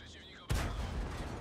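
After a short stretch of quiet background, one heavy tank cannon blast in World of Tanks booms suddenly, its deep rumble lingering for nearly a second.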